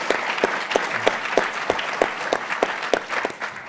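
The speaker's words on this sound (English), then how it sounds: "So a round of applause for our colleagues here at iHouse" An audience at a university speaker-series event in a hall claps, with distinct sharp claps standing out at a regular beat over a softer crowd wash.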